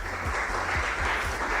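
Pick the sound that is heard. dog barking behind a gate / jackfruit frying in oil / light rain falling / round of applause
round of applause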